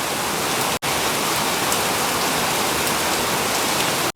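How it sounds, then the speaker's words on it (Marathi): Heavy monsoon rain pouring down in Pune, a loud, dense, steady roar of rainfall on surfaces filling the whole stretch, broken only by a brief gap, with no talking. "एकदम लय जोरात आहे, लय जोरात पाऊस आहे."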